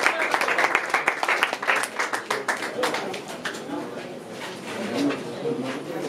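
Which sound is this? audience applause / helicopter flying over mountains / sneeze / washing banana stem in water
audience applause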